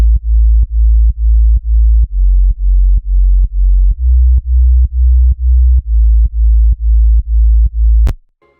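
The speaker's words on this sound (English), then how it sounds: "For the sub I used a very simple 3XOSC sound" A deep, loud synth sub-bass made with FL Studio's 3XOSC pulses in a steady rhythm of repeated notes, shifting pitch midway, then cuts off abruptly at the end.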